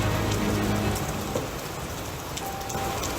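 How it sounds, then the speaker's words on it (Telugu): Steady, dense rain pours down heavily, a constant hiss of drops striking surfaces with no voices, holding an even loudness throughout. "భారీగా వర్షం కురుస్తోంది."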